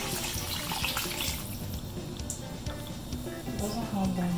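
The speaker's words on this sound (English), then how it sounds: "I'm gonna pour it in another pot" Food being poured from one pot into another in a home kitchen during bulk cooking, a continuous watery splashing that runs throughout, with a voice speaking over it.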